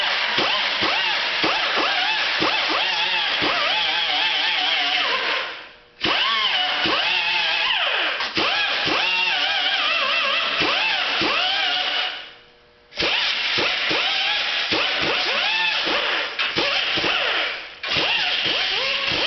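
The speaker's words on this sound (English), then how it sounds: "we have a 3-inch die grinder with a 36 grit on it" A 3-inch die grinder fitted with a 36-grit disc grinding on a Duramax truck's rocker panel, a loud, steady high-pitched whine with scraping texture that cuts out briefly twice and restarts.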